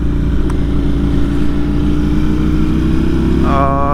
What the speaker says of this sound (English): as you can see, I'm on the KTM